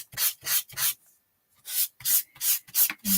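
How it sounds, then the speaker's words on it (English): Sandpaper rubs over a magazine image in rhythmic back-and-forth strokes, six or seven close, bright scratchy passes with a short pause midway, no voices. "we're going to start once again with the sandpaper"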